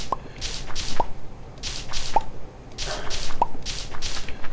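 Water being placed in the Minecraft-like game MineClone2, heard as four evenly spaced bright drip-like plops over a faint, steady backdrop of soft broadband hiss that rises and falls.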